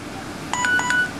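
A phone playing a Tasker find-phone alert pattern, a few quick high electronic beeps in a short melodic run, fairly close and clear with no talking.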